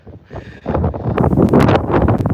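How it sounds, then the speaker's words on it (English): Wind buffets a microphone outdoors in Edinburgh as a storm approaches, with loud, rumbling gusts that swell after a quiet start and keep roaring unevenly close to the mic. "So it is a bit windy and I apologise."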